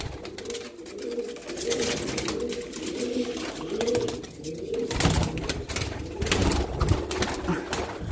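Yellow Jumbo Boy Lahore pigeons coo in soft, rolling low calls that continue steadily throughout, close by and moderately loud, with rustling and occasional sharp clatters in the background.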